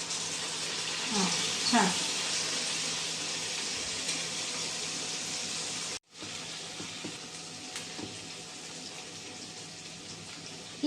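Medu vada slipped into hot oil crackle into a steady, close sizzling hiss of frying that breaks off briefly and then resumes, with someone speaking over it.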